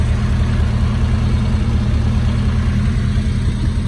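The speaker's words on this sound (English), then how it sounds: "He does sound nice. That exhaust." A 1971 VW Beetle engine idles through its exhaust, a loud, steady low rumble with an even pulsing beat, alone without talk.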